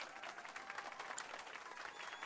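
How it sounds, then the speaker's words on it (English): An audience applauds a pianist's performance in Final Fantasy VII Rebirth, with steady, fairly soft clapping at an even level for a couple of seconds. "let's give our pianist a warm round of applause."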